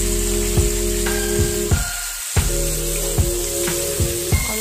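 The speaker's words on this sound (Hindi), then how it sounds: "जैसे ही थोड़ा गर्म हो जाएगा इसमें हम लोग अपने वेजिटेबल्स ऐड करेंगे" Bell pepper and onion sizzle steadily in a hot pan for a paneer satay sizzler, with a loud, close, continuous hiss broken by regular soft knocks from stirring.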